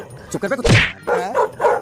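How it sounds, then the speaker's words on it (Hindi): A dog barks at a panther: one loud, sharp bark up close, surrounded by voiced, whimpering sounds. "पर कुत्ता पैंथर को देखकर भौंकने लगा।"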